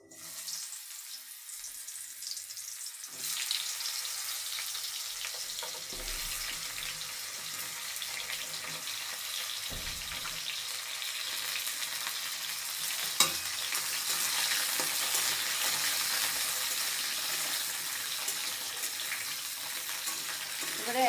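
Pointed gourd added to hot oil with five-spice seeds, frying in a steady loud hiss that swells as the pieces hit the pan, with occasional stirring knocks, close.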